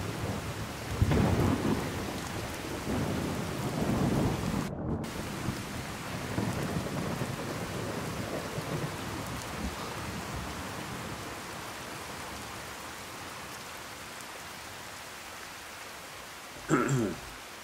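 Rain and a thunderstorm in the video game Fallout 4: steady rainfall hiss with a loud rolling thunder rumble early on, then continuous rain, and a sharp crack of thunder near the end.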